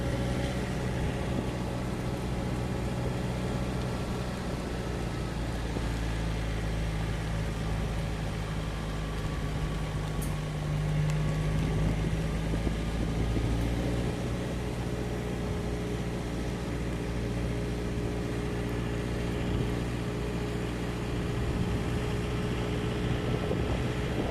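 A car cruising along an open coastal mountain road that winds between hills and sea at Khao Laem Khat, Ao Po, with a steady low engine and road rumble plus constant wind noise throughout, no talking.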